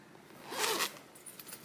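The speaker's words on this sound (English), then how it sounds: "gonna get caught in the zipper" A clothing-style zipper is pulled once in a single smooth rasping stroke, close and fairly quiet, with soft room noise around it.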